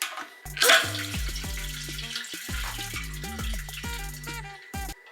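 Fuel pours into the tank of a crash-damaged Harley-Davidson motorcycle, with gurgling glugs and rising, bubbling tones as the liquid flows in spurts, close and clear.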